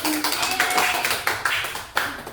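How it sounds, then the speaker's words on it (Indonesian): Students in a classroom clap their hands together in a short burst of several quick, sharp claps at close range, falling into a loose rhythm before stopping. "Tepuk tangan dulu."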